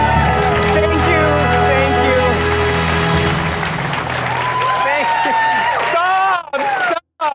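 Studio audience applause for the host of a comedy game show, a dense, loud wash of clapping that fills the room, easing off near the end and breaking off abruptly.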